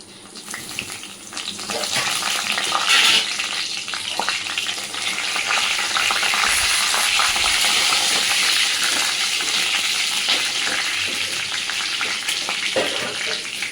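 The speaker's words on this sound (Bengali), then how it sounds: "এদিকে আমার তেল গরম হয়ে গেছে। এবার এর মধ্যে আমি দিয়ে দিচ্ছি গোটা গরম মশলা।" Loud, continuous crackling sizzle of whole spices dropped into hot oil, with a few sharper pops and stirring scrapes, close by.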